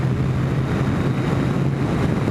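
Kawasaki ZX10 motorcycle cruising on the motorway at about 70 mph, heard as a steady low engine drone buried under heavy, constant wind rush across the microphone, with no talk.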